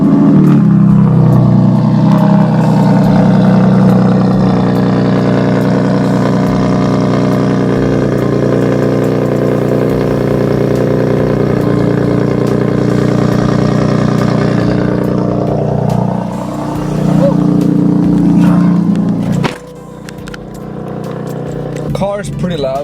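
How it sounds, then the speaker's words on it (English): A BMW E90 fired up from a cold start, engine catching and settling into a loud, steady high idle with a rough, throaty tone that drops toward the end, talk audible over it. "you're gonna hear a cold start now because the car hasn't been turned on at all"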